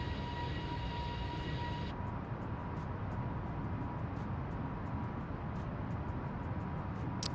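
A simulated airliner takes off in a flight simulator game, its engines giving a steady, loud broadband roar throughout with a brief higher whine at the start, no voices.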